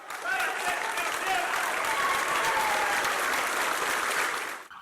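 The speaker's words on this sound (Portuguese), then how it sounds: "E dos colegas, ele recebeu os aplausos." Sustained applause from a sizable crowd, steady and dense throughout, fading out at the end.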